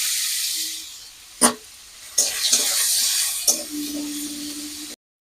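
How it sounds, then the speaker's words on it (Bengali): Paneer pieces dropped into hot mustard oil in a wok-like kadai, hissing and sizzling in sharp bursts as each piece goes in, then settling into a steady fry. "এবার আমি পনিরগুলো ভেজে নেব"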